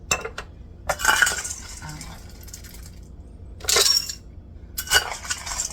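Dry beans poured into a glass canning jar in a few bursts, giving rattling clinks and a rushing patter near the start, then two shorter pours later, with quiet kitchen background between.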